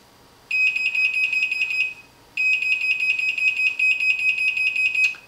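A needle and staple metal detector used for garment inspection sounds a loud, steady electronic alarm tone in two long bursts as it detects a staple. The bursts are separated by a short gap, with no talking.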